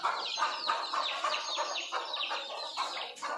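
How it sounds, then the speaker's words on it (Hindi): A mother hen with chicks clucking on a desi free-range poultry farm, a steady run of short, busy clucks and peeps at close range, fairly loud throughout with no talking. "ये देखो ये बच्चे वाली मुर्गी है"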